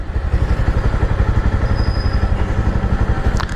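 A Rapido bike taxi motorcycle engine runs close by, a steady low rhythmic throb with faint rattling that holds at an even level throughout.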